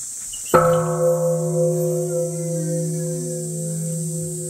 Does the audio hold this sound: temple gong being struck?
yes